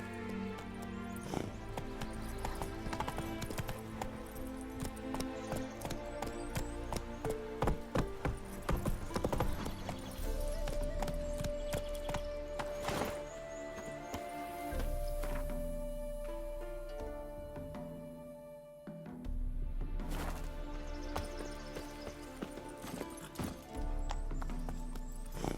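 Roach, Geralt's horse in The Witcher 3 expansion Hearts of Stone, gallops in a steady, rapid clip-clop of hooves that runs throughout, mixed with dense game music and ambience.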